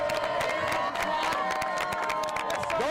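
A crowd at a high school football game cheers and claps as the home team in yellow uniforms runs out under the lights, a continuous roar of voices and applause with scattered shouts.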